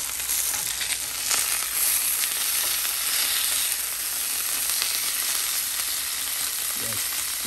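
Chicken sizzles in a frying pan after being flipped, cooking for chicken Alfredo, a steady, close, crackling hiss that holds at an even level throughout with no talking.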